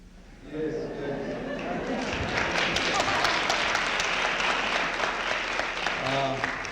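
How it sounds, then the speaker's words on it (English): Audience at a public talk bursting into applause, a sustained, dense wash of many hands clapping that swells quickly and holds steady, with a voice speaking over it near the end. "Why do you clap?"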